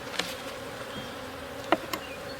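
Bees hum softly in an opened beehive, a faint continuous drone broken by a few brief, louder buzzes as single bees zip past close by, with no talking.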